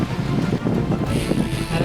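Wind rushes steadily past a cyclist descending a mountain road during a long Pyrenees bike race, a loud, constant buffeting roar on the microphone with no talking.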